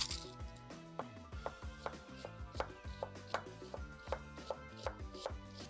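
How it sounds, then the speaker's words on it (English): Steady knife chops through onions on a cutting board, quick and rhythmic, close up with a dull thud on each stroke and no voices. "let's get chopping these onions"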